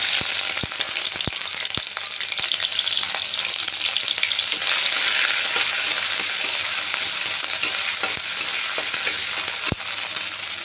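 Ginger frying in a pan of oil for a vegetarian potato and bitter gourd dish, giving a loud, continuous sizzle up close with scattered sharp pops and spatula scrapes throughout.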